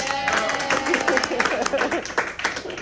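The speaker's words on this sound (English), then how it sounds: "I'll clap for you, Gabe." At a school board meeting, a few people clap briefly and unevenly, a thin smattering of hand claps close by, with some voices murmuring underneath.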